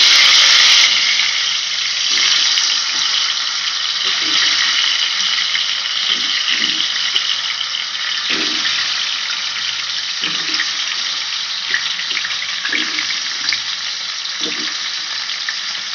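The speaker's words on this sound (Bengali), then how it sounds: "এবার আমরা কচুতে নুন হলুদ মাখিয়ে কচুটা ভেজে নেব" Taro root pieces coated in salt and turmeric fry in hot oil, giving a loud, close, continuous sizzle with intermittent soft knocks and scrapes as the pieces are moved in the pan.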